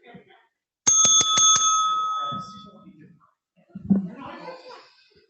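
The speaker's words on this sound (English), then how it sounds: "we'll ring that bell and we'll get you going" A bicycle-style bell rings rapidly five times in a bright, close burst that trails off into a long ringing decay to start a timed exercise, with brief speech before it and quiet voices after.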